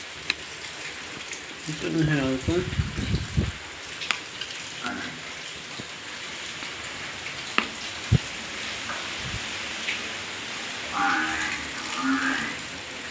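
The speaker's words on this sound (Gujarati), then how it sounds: "ગાઈસ બહુ જ વરસાદ વરસે છે" Heavy rain pours steadily outdoors around a rural Gujarati family home, a dense even hiss running the whole time while a voice speaks briefly over it.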